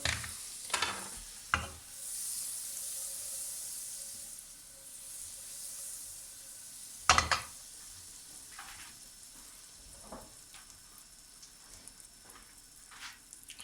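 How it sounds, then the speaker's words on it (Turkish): Pide bread fries in butter in a hot pan, a soft continuous sizzle punctuated by several sharp scrapes and clatters of a utensil turning the pieces, close and fairly quiet. "pidelerimi bu tereyağında bir miktar bir kavuruyorum."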